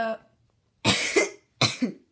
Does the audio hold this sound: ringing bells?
no